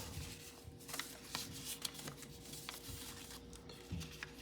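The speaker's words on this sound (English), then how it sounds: "Now we're going to petal fold this up" Origami paper being petal-folded into a wildebeest model, with soft crinkling and creasing rustles close by, small crisp taps and slides of paper over a low steady background hum.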